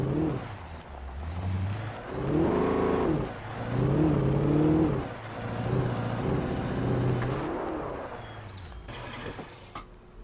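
A car engine in the video game Alan Wake hums and rises and falls in a few swelling revs, moderately loud over a noisy background, then fades near the end.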